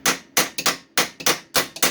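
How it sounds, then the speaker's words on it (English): A hammer strikes a steel RZR off-road vehicle frame in quick, uneven bursts of about eight sharp metallic blows, loud and close with no talk. "ever so delicately hammer the shit out of it, but not so much that you break other shit. Delicate hammering."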